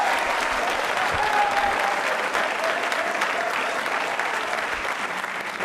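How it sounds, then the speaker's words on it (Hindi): A studio audience at a televised quiz show applauds a contestant with continuous, even clapping that holds steady for several seconds, with a faint voice underneath. "1 करोड़ तालियां जोरों से बजाइए"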